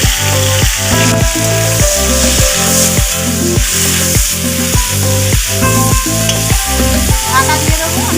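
Cauliflower florets fry in oil with turmeric, a loud, close, continuous sizzle with a regular, rhythmic pulsing beat running through it.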